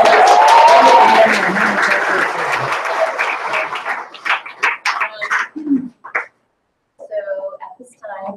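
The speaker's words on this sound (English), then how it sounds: "Hey, another round of applause." Applause from a conference audience fades out within a few seconds, followed by scattered individual claps, voices and some cooing, chirpy sounds in a quieter room.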